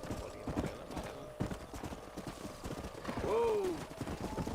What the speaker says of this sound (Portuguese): Vamos guiar os cavalos